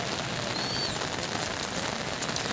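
Heavy rain pours steadily over a farmers market in Bargarh, a dense, even hiss of drops drumming on surfaces throughout, with a faint thin tone briefly rising above the wash and no talking.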